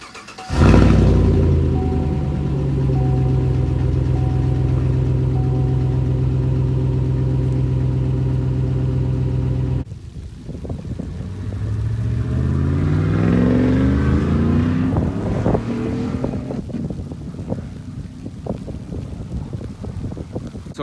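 A 2015 Chevy Silverado V8 with a straight-piped catback exhaust and retained front cats drones loudly at a steady pitch, then drives off with wind buffeting and rising revs as it accelerates.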